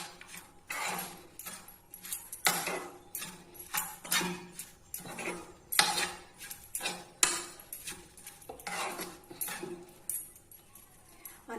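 Raw mango and dry prawn chutney is mixed with oil in a bowl, giving repeated scraping and clinking of a spoon against the bowl in irregular bursts, close and fairly clear.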